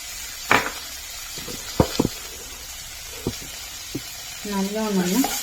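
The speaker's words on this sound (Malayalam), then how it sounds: "ഇഞ്ചിയും പച്ചമുളകും ചതച്ചതിട്ട് നല്ലോണം ഒന്ന്" Crushed ginger and green chillies fry in a pan with a faint background sizzle and several sharp utensil taps against the pan, and a voice talks briefly near the end.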